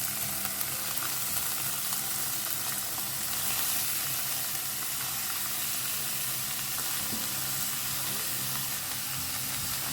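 Chopped vegetables for paneer momos sizzle and fry steadily in a hot pan over high flame, a continuous dense crackle with stirring, close and fairly loud throughout with no talking.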